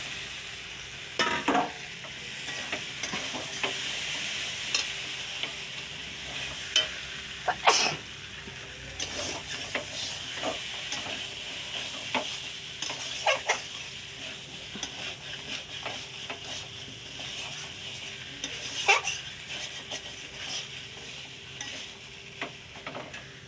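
Pointed gourd (potol) sizzling in hot oil in a pan, a steady fry hiss broken by sharp scrapes and clanks as a spatula stirs, spaced irregularly, close and moderately loud with no talking.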